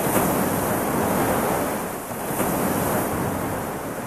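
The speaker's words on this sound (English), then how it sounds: "With the opposite shore out of sight, and with waves pounding its coastline" Waves pound the coastline of Lake Tanganyika, a vast freshwater lake whose far shore lies out of sight, making a steady, loud roar of surf with a brief lull midway, mixed with wind buffeting the microphone.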